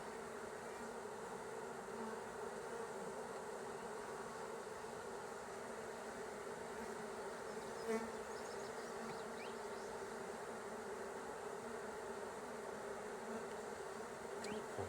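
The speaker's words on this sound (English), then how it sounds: "Look at all these bees festooning off the bottoms of these frames." A steady, dense hum of many honeybees festooning off the bottoms of hive frames, buzzing continuously at close range, with no voices.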